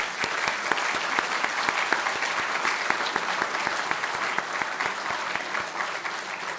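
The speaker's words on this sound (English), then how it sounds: "Let's give them one last round of applause." A seated audience at the close of a public talk on plant-based medicine claps steadily, a dense, even round of applause with sharp individual claps near the listener, no voices over it.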